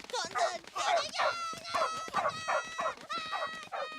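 A cartoon dog in an animated Doraemon film gives repeated short yips and whimpering barks in a quick, uneven run, close and fairly clear.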